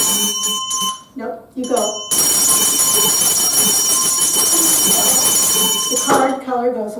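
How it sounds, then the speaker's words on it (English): A group of children's bells rings together in a dense, sustained jangle for several seconds, loud and close, with talk before and after. "when you ring these bells, you'll ring your bell when you see the color"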